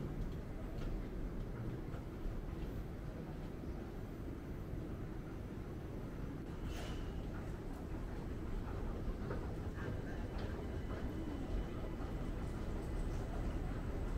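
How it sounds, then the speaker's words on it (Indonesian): An underground MRT train runs through Bukit Bintang station in Kuala Lumpur, a steady low rumble of wheels and motors heard from inside the carriage with faint clicks and squeals over the top. "Ini underground ya, kereta underground."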